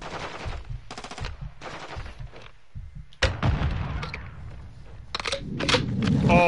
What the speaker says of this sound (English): But I take that back, because shots were shot.